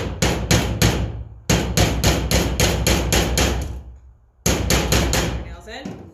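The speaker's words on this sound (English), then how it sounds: "and then use your hammer" A hammer drives nails into a wood picket frame in three quick bursts of sharp, evenly spaced blows, loud and close, with brief pauses between the runs of strikes.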